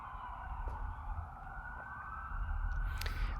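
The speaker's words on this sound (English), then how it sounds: "So we'll let the siren pass here." A wailing siren sweeps steadily in the distance over low traffic rumble, growing a bit louder toward the end as it passes.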